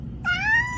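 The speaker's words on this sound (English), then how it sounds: "This cat." A pet cat lets out a single, close, drawn-out meow that rises slightly and then fades, clear and loud over a quiet room.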